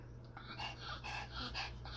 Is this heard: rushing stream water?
no